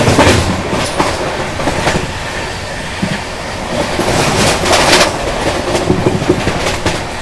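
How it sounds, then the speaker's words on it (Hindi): The 22222 CR Rajdhani Express, heard from inside a First AC coach as it overtakes the Gondwana Superfast, gives a loud, continuous rumble with rhythmic wheel clatter and rushing noise. No one speaks. "फाइनली अपनी CR राजधानी ने दोस्तों ओवरटेक कर दिया गोंडवाना सुपरफास्ट को।"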